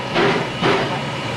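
A 1915 Heisler steam logging locomotive running, giving two loud breathy chuffs of steam about half a second apart, close by with a steady hiss between them.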